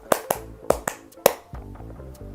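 Hand claps ring out in a rhythmic pattern, five sharp close claps in quick groups, followed by a softer sustained tonal hum.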